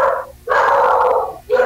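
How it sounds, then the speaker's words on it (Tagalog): A dog close by gives loud, drawn-out, agitated vocal outbursts: a short cry, a longer sustained wail, then the start of another, with no talking over it. "Nagwawala yung aso."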